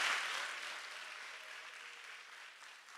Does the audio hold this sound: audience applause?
yes